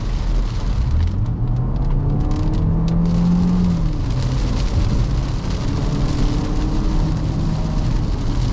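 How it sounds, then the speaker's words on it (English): 2024 Chevy Equinox RS accelerating at full throttle from about 25 mph, a loud continuous engine drone with a rising and falling tone over heavy road rumble, heard from inside the car. "get the car up to 25 like we have it now, and just kind of mash the throttle and see what happens"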